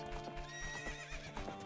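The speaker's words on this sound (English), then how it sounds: "Horse!" A horse in Ocarina of Time whinnies loudly and plods with clip-clopping hooves, steady and close throughout the short burst with no talk over it.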